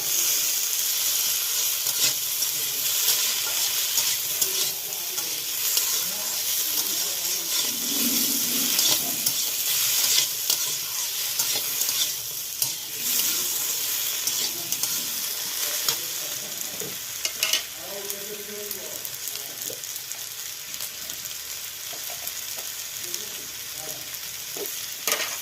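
Ingredients frying lightly in oil for a recipe, a continuous close sizzle with occasional stirring and scraping in the pan, steady throughout with no voices.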